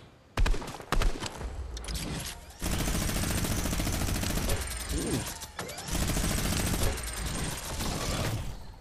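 Fortnite gunshots fired in bursts and rapid sustained volleys, loud and close, with short gaps and mechanical clatter between strings of shots.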